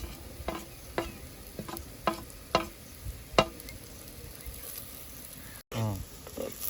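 Green chillies and spices frying in a pan, a steady sizzle under repeated stirring scrapes and taps, close and clear.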